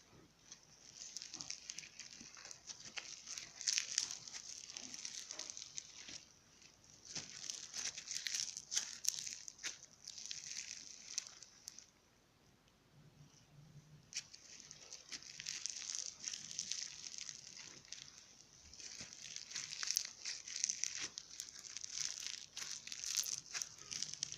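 Crunchy slime squished and worked by hand, giving bursts of dense crinkling, crackling texture that pause briefly and resume, close and moderately loud with no talking.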